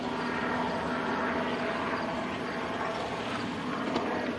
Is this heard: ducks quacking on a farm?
no